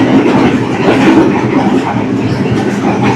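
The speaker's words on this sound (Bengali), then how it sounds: "ছেড়ে দিয়েছে আমাদের রেল বাসটা পটুহেরা রেলওয়ে স্টেশন থেকে" A Sri Lankan rail bus running on its tracks: a loud, steady rumble and rattle throughout, with faint rhythmic clickety-clack under the roar and no talking.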